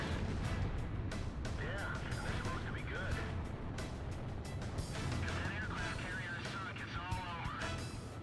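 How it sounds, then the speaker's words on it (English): Anti-aircraft fire from ships in the video game Ace Combat Zero, a dense stream of rapid popping bursts over a steady roar of jet and battle noise, with voices talking over it. "look at the gunfire coming off the ships"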